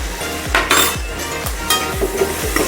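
A spoon scrapes through frying potatoes and onion with black pepper in a pan, strokes coming about twice a second over a steady background sizzle, close and fairly loud.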